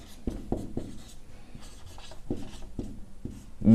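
Pen writing out a geometry solution for a class 10 maths exercise, with short scratchy strokes in an irregular rhythm, close and fairly quiet, with no talking.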